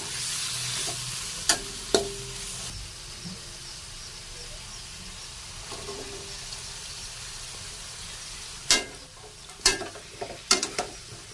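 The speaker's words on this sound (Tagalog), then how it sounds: "Pinagsabay ko na yung sibuyas tsaka bawang." Onion and garlic sautéing together in a pan for pork adobo, a moderate steady sizzle with sharp intermittent spatula knocks and scrapes, heaviest near the end.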